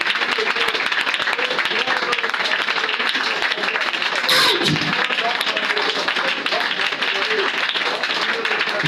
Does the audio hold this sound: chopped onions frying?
no